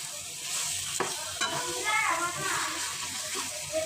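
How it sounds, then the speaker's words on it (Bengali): Pieces of broiler chicken are worked into spices in a hot pan with a metal spatula, a soft sizzle under a few scraping strokes, with a voice speaking faintly over it. "এখন আমি খুন্তি দিয়ে ভালোভাবে নিয়ে দিব মানে মিশিয়ে দিব মশলার সাথে"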